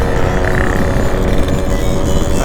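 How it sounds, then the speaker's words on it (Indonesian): A motorcycle rides past on a road at an RX King enthusiasts' anniversary gathering, its engine noise broad and continuous over about two and a half seconds with constant wind and traffic rumble, no talking. "Ada motor lagi."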